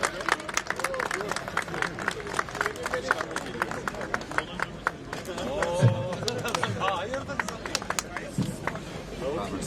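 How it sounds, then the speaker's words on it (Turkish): People clap steadily at a bicycle festival held at the Turkish Grand National Assembly, a dense run of hand claps close by with crowd chatter and voices mixed in throughout. "alkışlayalım lütfen"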